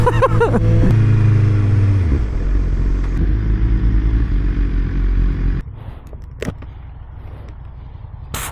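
A BMW S1000RR or KTM 1390 sport motorcycle engine revs hard and loud up close, dropping through quick quickshifter gear changes, then settles into a lower rumble with a couple of sharp blips.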